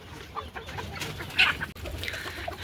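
Desi hens on a poultry farm give a few soft, scattered clucks inside their large coop, quiet and close against a faint background hiss.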